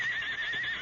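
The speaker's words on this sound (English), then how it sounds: "Something bothering my horse out there." A horse whinnies outside a prospector's shack in an old Western radio drama: one loud, close, wavering neigh, heard alone.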